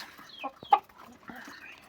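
Black hens feed at a home yard, a few soft clucks and short calls close by, faint and intermittent with quiet gaps.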